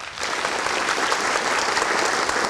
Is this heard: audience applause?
yes